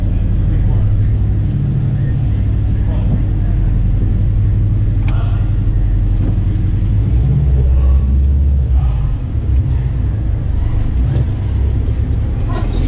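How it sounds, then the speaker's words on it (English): A Subaru WRX STI boxer engine with an SPT exhaust drones steadily while driving, a continuous loud low rumble heard from inside the car. "still has that cool boxer sound to it"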